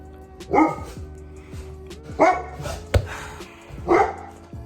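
Several sharp dog barks ring out at irregular intervals indoors, about three or four loud yaps with a steady hum underneath.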